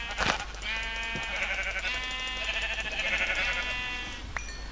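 Sheep bleating in a Minecraft-style video game, a long sustained wavering bleat lasting several seconds, loud and close, with a shorter call at the start and a brief click near the end.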